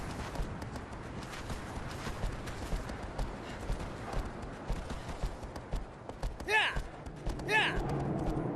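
Horse hooves clip-clop steadily in the video game Shadow of the Colossus, a rapid rhythmic galloping beat throughout with a couple of horse snorts near the end.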